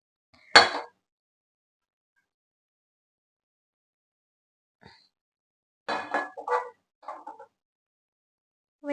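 A kadai set down on the stove, then a spoonful of oil added: one sharp metallic clank, a long silence, then a short cluster of clinks and knocks, close by.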